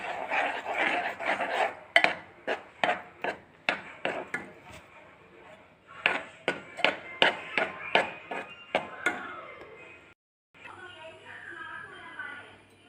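Cocoa powder is stirred into a bowl for cookie dough, a spoon or whisk knocking the sides in a fast run of sharp taps, pausing, then tapping again before the clatter fades into quieter scraping.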